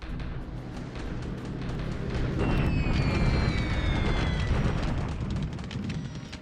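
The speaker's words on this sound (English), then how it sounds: "Bombing on Guam" Bombing explosions rumble in a war strategy video game set on Guam in December 1941, a steady loud low roar of blasts swelling midway with faint whistling tones above.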